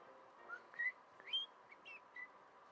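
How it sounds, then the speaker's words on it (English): Soft, faint whistling in the video game Monster Hunter: World: a handful of short, separate pitched notes, several sliding upward, with pauses between them. "sorry for the whistling"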